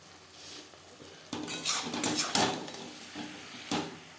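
Fish curry with green tomato and chopped coriander stirred in a pan over a gas flame: a run of scraping and clattering utensil strokes against the pan, with a few sharper knocks, close and moderately loud.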